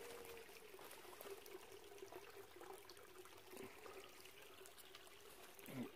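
Water in a babbling brook trickles steadily through buggy English woodland on a solo camping trip, a faint continuous wash with small splashes throughout.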